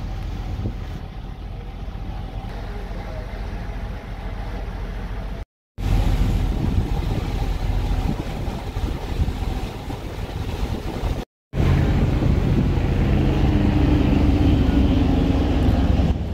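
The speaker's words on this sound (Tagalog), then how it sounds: "nakita ko naman tong yate na paparating" A yacht approaching across the harbour by Hong Kong's Kai Tak cruise terminal, with a steady, loud low engine-and-water rumble and heavy wind buffeting the microphone that runs throughout, broken by two brief cuts.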